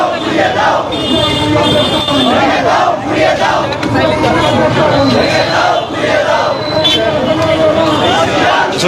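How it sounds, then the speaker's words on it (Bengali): A street protest crowd in Bangladesh marches and chants slogans against US-Israeli attacks on Iran, loud and close, with massed voices shouting in rhythmic call-and-response bursts over continuous crowd noise. "তিনি স্লোগান দিয়ে দিয়ে সামনে আগাচ্ছেন"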